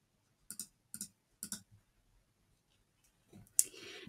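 Three crisp mouse clicks at a steady half-second rhythm, close and clear in a quiet room, followed by a brief faint rustle of handling.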